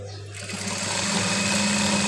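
A sewing machine runs steadily while stitching the side cuts of a dress, the half-inch folded fabric edge fed through; the close, continuous mechanical hum starts quietly and settles into an even, loud whir with no talking.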